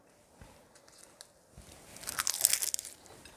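A crisp crunch sounds up close as the crust of a chicken-and-cheese bourekas pastry is bitten, a short burst of crackling in an otherwise quiet moment.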